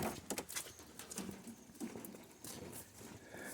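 Rain falls on a barn rooftop on a farm with cows and pigs, making soft, irregular pattering taps that sound faint and distant.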